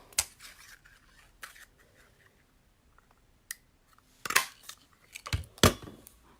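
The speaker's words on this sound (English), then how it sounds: "I'm going to have the tailor tack punch and cut the edges." A tailor tack punch and scissors working on card edges for a handmade friendship card, a few sharp close clicks and snips scattered through a quiet room, with louder bursts near the end.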